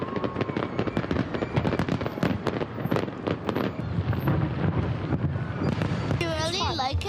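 Fireworks at an outdoor fireworks show burst in a rapid, irregular series of sharp bangs and crackles, loud and continuous throughout, with some wind buffeting the microphone and a whistling rocket near the end.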